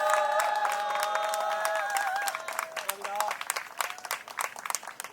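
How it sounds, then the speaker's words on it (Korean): An audience applauds at a social worker award ceremony, a steady crowd clapping with some cheering that thins toward the end, while a tonal sound plays underneath at the start. "여러분들 큰 축하의 박수 부탁드립니다."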